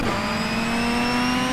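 A race car engine in the rFactor 2 racing game revving high and steady, a loud, close whine.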